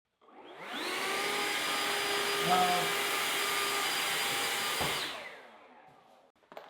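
A Ryobi 18V compact brushless handheld blower spins up to a steady high-pitched whoosh, holds for about four seconds close by, then winds down.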